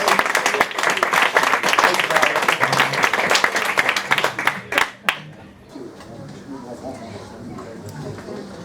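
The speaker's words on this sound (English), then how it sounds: "Give them a big round of applause for that." An audience at a live quiz show applauds the contestants, brisk clapping with some whoops for about five seconds before it stops abruptly, after which a voice speaks over quiet room noise.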